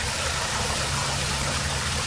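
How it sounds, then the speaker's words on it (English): A medium-sized backyard pool waterfall, about ten feet wide and set in a raised area, gives a steady, even rush of falling water with no pauses. "This waterfall is it's a medium-sized waterfall."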